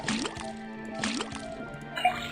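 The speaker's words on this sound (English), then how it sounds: "put the sample of liquid into the cauldron and tap the faucet" In the video game Detective Grimoire, liquid pours from a faucet into a cauldron, giving two short bubbling, gurgling pours with a fainter dripping tail, close and moderately loud.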